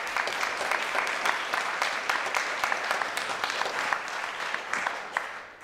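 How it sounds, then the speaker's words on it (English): Sustained audience applause after a call to clap during a talk, dense steady clapping from a crowd throughout, fading slightly at the end. "But let's give a round of applause to Seb for all that work."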